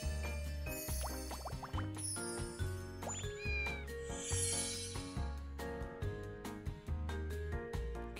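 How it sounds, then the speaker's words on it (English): Cat meowing inside the video game Girl Cafe Gun, short mews rising over steady looping game music with chimes and jingles, no talk. "Kitty cat came in."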